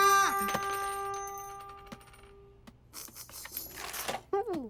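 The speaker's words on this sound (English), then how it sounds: "he practiced ringing up a sale with his right hand" A cartoon cash register ringing up a sale, a bright bell ring followed by clattering coin-like and mechanical effects, with a playful sliding tone near the end.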